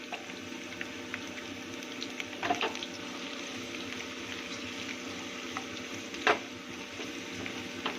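Garlic sizzles steadily in hot oil for a moong dal tempering, a constant crackling hiss with a few sharper pops, no voices.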